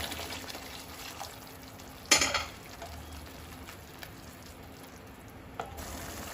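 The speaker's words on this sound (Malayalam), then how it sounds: "നമുക്ക് അല്പം വെള്ളവും കൂടി ഇതിലോട്ട് ഒഴിച്ചു കൊടുക്കാം" Water splashes into a pan of chicken 65 biryani gravy with a sharp burst, then a soft sizzle and simmer continue quietly, with a faint clink later.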